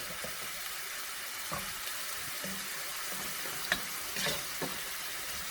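Onions sauté in a pan for fish curry, giving a close, continuous sizzle with scattered stirring scrapes and a few sharp clinks, and no voices over it.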